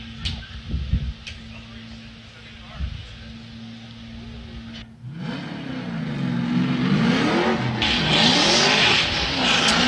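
A Nissan 370Z drift car with an Edelbrock supercharged V8 and Doc Falcon tires is heard at a Formula DRIFT qualifying event. Faint engine noise and an announcer's voice come first, then the engine revs up hard under swelling tire squeal.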